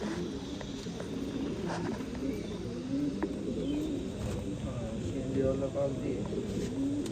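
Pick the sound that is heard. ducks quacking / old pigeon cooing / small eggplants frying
old pigeon cooing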